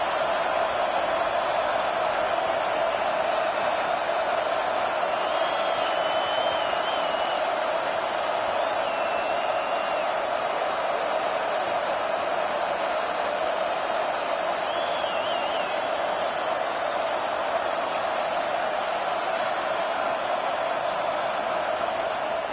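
A packed stadium crowd roars during a field goal attempt in College Football 26, a sustained, dense wall of noise with occasional whistles and whoops rising above it, and broadcast commentary over the top.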